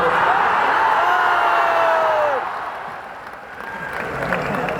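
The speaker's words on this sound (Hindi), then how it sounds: "अरे वो के बोलूं तो एक बार ताली" An audience at a career guidance seminar for UPSC/BPSC aspirants in Bapu Sabhagar, Patna claps in a steady, loud wash that thins out midway, with a voice heard over it.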